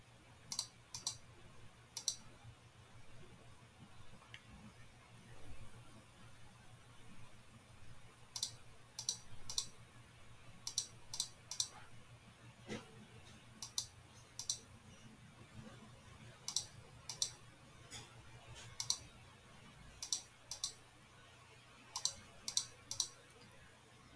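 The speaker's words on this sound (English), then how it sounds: "Maybe if I just keep clicking," Sharp mouse clicks in quick bursts of two to four, repeating across a Nancy Drew: Secrets Can Kill computer game session over a steady low hum, with no talking.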